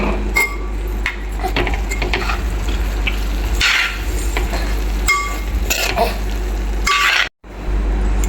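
A spoon stirs a mixture of flattened rice, banana and roasted grated coconut in a pan, producing close, continuous scraping and soft sizzling with occasional metallic taps, alone without speech.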